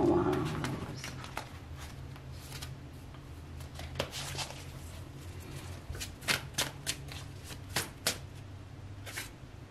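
A deck of tarot cards is shuffled close by, soft riffles and taps coming in short irregular bursts over a low background hum.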